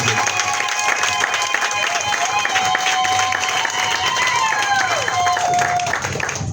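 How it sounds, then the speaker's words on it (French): A crowd at a political campaign meeting claps steadily and cheers, with whistles and raised voices mixed into the sustained applause. "je vous demande encore d'applaudir une fois de plus pour le président de ce Olivier"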